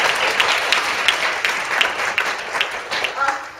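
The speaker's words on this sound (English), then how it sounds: "We'll do more clapping." An audience at a foreign language education conference applauds steadily, a dense wash of many hands clapping with brief swells, sustained throughout.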